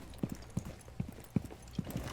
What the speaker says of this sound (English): so we can hear a guy on the staircase.